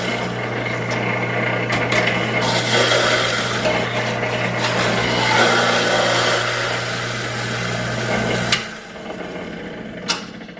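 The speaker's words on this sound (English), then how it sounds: "Now we're going to juice these cucumbers." A Champion juicer grinding cucumber slices gives a loud, steady motor hum with rough grinding and clattering. The motor cuts out near the end, leaving a quieter tail with one sharp knock, and nobody talks.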